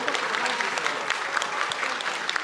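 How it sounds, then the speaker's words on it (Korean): A crowd in Gwangju gives sustained, dense applause as they stand to welcome the president. The clapping fills the whole stretch evenly with faint crowd noise beneath it. "우리 같이 자리에서 일어나서 큰 박수로 맞이해 주셨으면 합니다."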